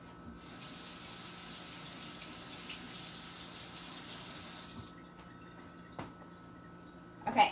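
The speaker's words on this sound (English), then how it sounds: "Let me rinse this spoon off real quick." A kitchen tap runs steadily as a spoon is rinsed under it, a soft continuous water hiss that stops partway through, followed by a couple of faint clinks.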